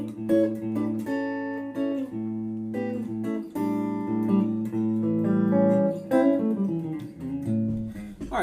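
Clean guitar plays chord triads moving in parallel up the neck, a steady flow of ringing three-note shapes, sustained and evenly loud, alone with no voice.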